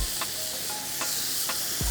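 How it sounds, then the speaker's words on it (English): Pork belly steak sizzles over a hot spot on a wood fire, giving a steady close hiss with soft intermittent crackles and pops throughout. "That's what I'm looking for, that sizzle, that hot spot."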